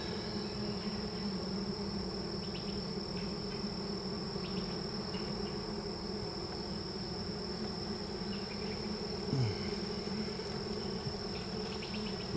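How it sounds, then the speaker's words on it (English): Honey bees in a horizontal hive give off a steady, close buzzing hum that holds unbroken throughout, with no talk over it. "A lot of bees."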